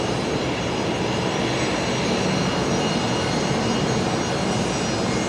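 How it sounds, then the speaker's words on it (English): A Qatar Airways Boeing 777 taxiing at Brisbane Airport sends out a steady, loud jet-engine roar, broadband and unbroken for several seconds with no voices. "there's the last look at the Qatari 777 as they taxi onto the international apron"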